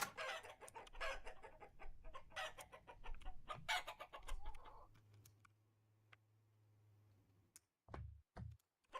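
Chickens cluck and crow in the survival game Vintage Story, with busy repeated calls over the first half, then a low steady hum and a few short loud thumps near the end.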